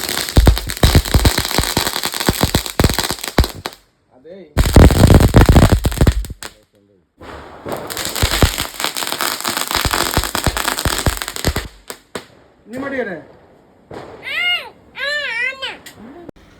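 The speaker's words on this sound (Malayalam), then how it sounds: "അങ്ങനെ ലാസ്റ്റ് പടക്കം പൊട്ടിക്കാൻ പോവുകയാണ്." Vishu firecrackers burst loudly and close in several sharp, crackling volleys separated by short gaps, while a child cries and people talk nearby.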